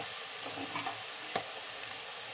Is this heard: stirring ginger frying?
yes